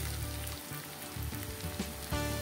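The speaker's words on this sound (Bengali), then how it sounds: "এটাকে আমি হালকা নেড়ে নেব যতক্ষণ অবধি পেঁয়াজটা একটু ট্রান্সপারেন্ট কালার হয়ে আসে।" Chopped onions with five or six cardamom pods sizzle in a pan for a butter chicken curry, a dense continuous frying crackle heard close up and alone, with no talking.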